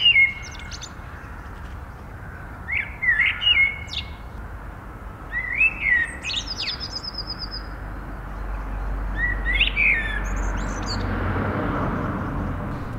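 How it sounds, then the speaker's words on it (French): An urban blackbird sings varied, fluting phrases with pauses between them, over a steady low rumble of distant city traffic. "les merles des villes, ils chantent un peu différemment, ils ont un chant plus varié"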